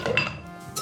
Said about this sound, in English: Fill the shaker with ice